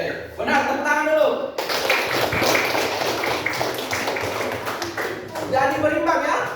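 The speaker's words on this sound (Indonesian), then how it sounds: "Oke, benar, tepuk tangan dulu." A classroom of students clapping their hands together in a short burst between stretches of a teacher talking, close and moderately loud.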